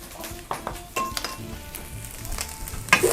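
Char siu fried rice stir-fried in a wok gives a loud, close sizzle with repeated scraping and clanking of a utensil against the pan in irregular strokes.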